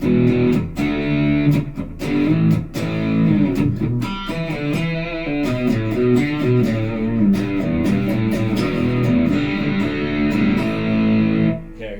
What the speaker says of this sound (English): Let's just keep kind of amping up the distortion here and see what it sounds like.